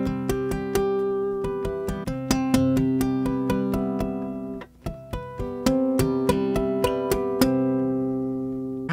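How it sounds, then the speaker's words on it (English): Tap harmonics on a guitar: sharp, bell-like tapped notes ringing out clearly one after another in a quick, uneven rhythm, each chiming tone sustaining and overlapping the next, with no talking. "Another common form of guitar harmonics are tap harmonics, which sound something like this."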